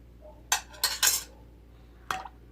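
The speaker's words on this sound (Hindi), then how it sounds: "इसको अच्छी तरह मिक्स कर देना है।" A spoon stirs curd into milk for homemade yogurt, knocking and clinking against the vessel in a quick cluster of three strikes, then one more after a pause, over a low steady hum.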